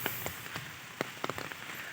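Rain falls in a rural provincial setting as a quiet, steady hiss with scattered louder drops tapping on a surface, and no one speaks.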